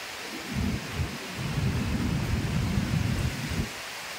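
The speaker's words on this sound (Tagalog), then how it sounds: "Hangin at ulan." Strong typhoon winds drive heavy rain in a steady, loud roar of gusts and downpour, swelling and easing with low rumbling buffets, with no talking.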